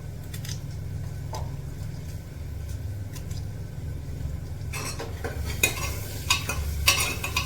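Onion, cumin and coriander frying in a pan at a picnic, a low steady sizzle with sparse clinks at first, then a burst of brisk stirring and scraping of the utensil against the pan toward the end.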